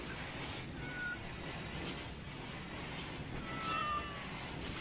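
Two brief meows from cats in the video game Rimworld rise over a constant low hum of game ambience, spaced a few seconds apart, moderately quiet and with no voices.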